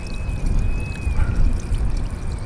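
Cold water runs and pours steadily from a drinking fountain in a mountain park in Dammam, a close, continuous splashing trickle with a brief whistling tone early on.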